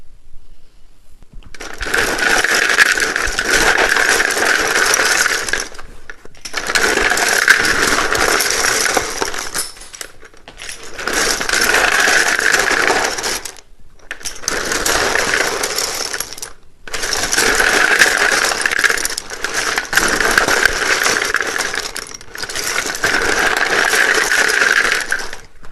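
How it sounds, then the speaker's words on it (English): Tarot cards shuffled close up in repeated loud bursts of rapid riffling and clicking, six separate rounds each a few seconds long with short pauses in between, no talking. "it can be a little bit loud when I shuffle these"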